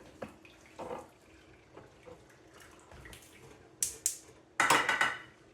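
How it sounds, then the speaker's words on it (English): Liquid beef gelatin gummy mixture poured from a container into a pan in a home kitchen, heard as a few short splashy bursts that grow into a louder, steadier pour near the end. "we are just going to pour it into our"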